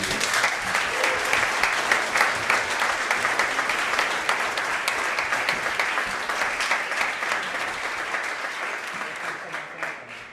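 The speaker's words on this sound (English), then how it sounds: "I would like to ask for a round of applause for all the students of batch 259" A demo day crowd for coding bootcamp students in Amsterdam applauds: many hands clapping in a thick, continuous wash that stays loud for most of the stretch and slowly tapers toward the end.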